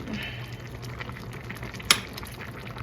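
Potatoes simmer in seasoned water in a pot on a home stove, a soft continuous bubbling hiss with one brief clink partway through, no talking.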